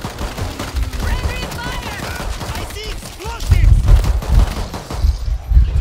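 Rapid pistol and rifle gunfire rattles through a chaotic World War Z video game battle in Tokyo, with overlapping shots, impacts and crashes, voices mixed in throughout.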